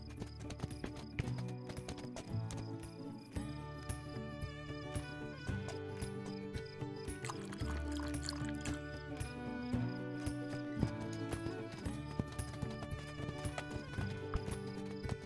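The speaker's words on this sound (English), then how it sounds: "Giddy up, Spirit!" Horse hooves clip-clop at a gallop in the DreamWorks Spirit Lucky's Big Adventure horse video game, with a whinny and game music playing over the steady hoofbeats.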